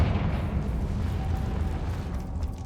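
A deep, rumbling blast from the Confringo fire spell in Hogwarts Legacy rolls on as a continuous low boom that fades slowly, with no voices over it.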